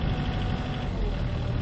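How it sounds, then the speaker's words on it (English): A heavy boom machine's motor revs at about third throttle while it pulls solely on its final drives, giving a loud, continuous low rumble with no talk. "been revving up this motor"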